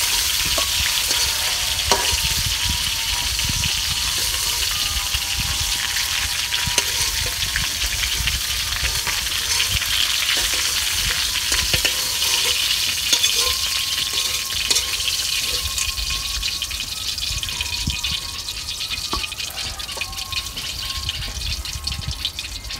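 Fish sizzles steadily in hot oil in a pan in a Bangladeshi village kitchen, a dense, continuous crackle that holds loud and close for the whole stretch with no voices.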